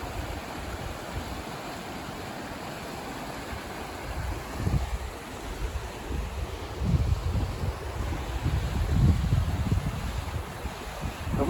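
Johnson Creek's water rushes in a steady broadband wash while wind buffets the microphone, with louder gusts swelling in the second half.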